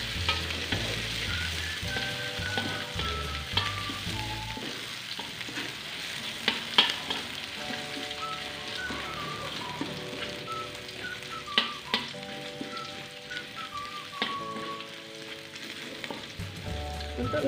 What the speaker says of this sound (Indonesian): Untuk minyak bawangnya kita tumis sampai mengeluarkan bau harum dan warnanya kecoklatan ya teman-teman.